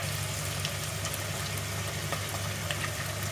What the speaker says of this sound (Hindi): मैं इसको लहसुन अदरक के पेस्ट के साथ फ्राई कर रही हूँ।